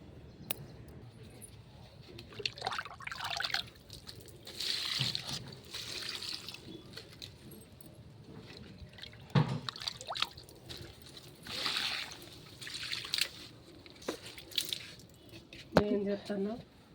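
Liquid fertilizer made from jackfruit pods and old jaggery is poured onto garden plants in soft, intermittent splashes and trickles, with voices talking quietly in the background.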